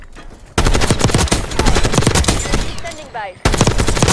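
Video game gunfire in Call of Duty Black Ops 6 multiplayer, loud rapid automatic bursts in a long stream, a brief pause, then another burst, with a short radio-style voice line mixed in.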